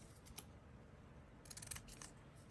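Scissors cutting paper faux stamps for journals: a quiet room with a single snip early on, then a quick cluster of crisp blade snips and paper crunches, close but faint, no voices.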